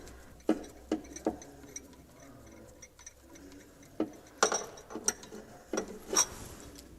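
Ratchet spanner clicking in short irregular bursts while the last bolt comes out of a Triumph TR6 differential, close and fairly quiet, with sparse metallic ticks and pauses between strokes.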